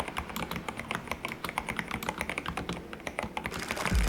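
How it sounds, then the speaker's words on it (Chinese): Fast, steady typing on a Logitech G512 X mechanical gaming keyboard with mechanical switches, crisp close key clacks in a dense rapid rhythm, heard alone. "其他不需要快速触发的区域，则维持机械轴，提供打字时的好手感跟声音。"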